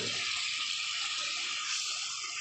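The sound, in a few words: pouring a little water into fish curry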